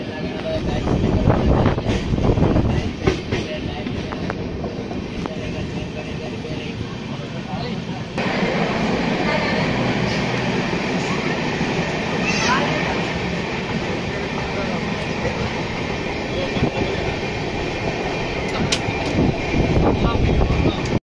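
An Amrit Bharat Express train runs between Samalkot junction and Pithapuram, its steady loud rumble and rattling heard from inside the coach throughout, with a shift in tone partway through.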